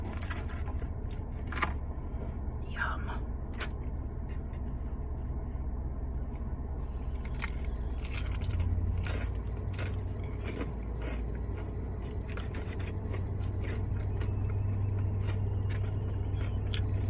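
Crunchy Panda Express chicken being chewed inside a car, with steady close-up crackling bites and crunches over a constant low rumble.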